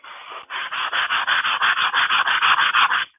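Wood being sanded by hand, a loud, close run of about fifteen rhythmic back-and-forth rasping strokes at an even pace, with no speech.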